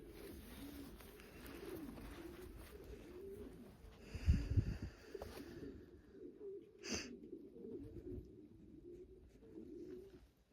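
Soft, low racing pigeon cooing repeats throughout in a quiet indoor loft, with a brief rustle of wings and a sharp click midway.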